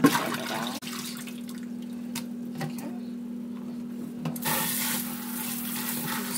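Cold tap water runs steadily over a raw chicken breast in a kitchen sink, a constant close stream with a low hum and occasional small clicks and knocks, with no talking.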